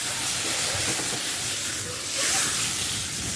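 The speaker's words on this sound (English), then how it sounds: "our prawns are cooking away here" Prawns sizzle in a hot pan just after lemon juice is added, making a loud, continuous hissing spit that swells slightly partway through, with no clear talk over it.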